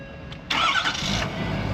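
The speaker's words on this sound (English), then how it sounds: "The truck fired right up." A dumpster truck's engine cranks and fires, catching about halfway through and settling into a steady, loud, close idle with a low rumble.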